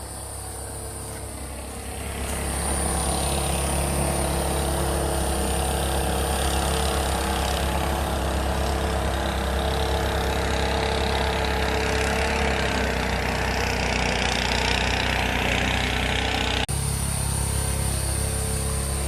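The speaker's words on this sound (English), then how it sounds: "There's a boat, a noisy boat out on the lake." A motorboat engine on a lake rumbles continuously at moderate distance, steady and droning, holding an even pitch throughout with no voices.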